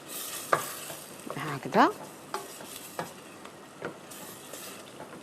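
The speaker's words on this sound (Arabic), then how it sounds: "ونخليها تزيد شويه يتقلى بالكرويه والثوم" Food fries with caraway and garlic in a pan under a soft steady sizzle, broken by spoon scrapes and stirring clatter, with a brief voice partway through.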